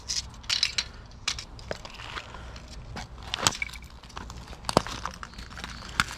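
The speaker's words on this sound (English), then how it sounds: "you just hear the glass crunching under my feet" Glass shards crunching underfoot along a riverbank, with repeated irregular crunches and crackles from steps through debris, fairly close and without talk.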